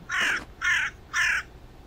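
A crow cawing in the survival game Northern Lights, three loud, evenly spaced harsh caws, close and alone.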